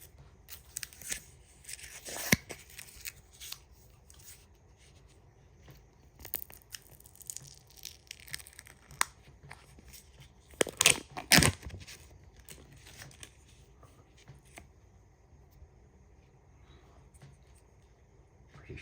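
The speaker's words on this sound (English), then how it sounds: "we're gonna peel the cover off here" Peeling the film lid off a flan-like dessert cup from a Japanese convenience store: a few crinkly plastic tearing bursts, loudest near the middle, set against quiet room tone with no talking.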